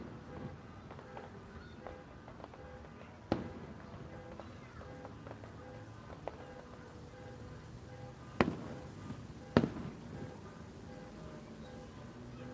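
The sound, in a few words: fireworks going off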